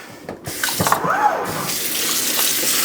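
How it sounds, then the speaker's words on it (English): Cold tap water runs steadily from a faucet over freshly made hot homemade sausages in a sink, a continuous close splashing stream that starts after a brief pause and stays loud to the end. "And get the cold water on them."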